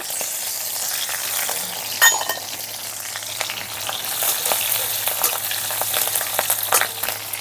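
Garlic cloves and slit green chillies with nigella seeds fry in hot oil for red amaranth greens, giving a steady loud sizzle and crackle, with occasional sharp spatters and the scrape of a spoon stirring through it.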